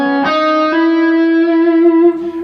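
A distorted electric guitar plays a sixth-interval shred lick, with a slide into the note and hammer-ons, ringing out loud and sustained with bright harmonics and a quick shift in pitch near the start.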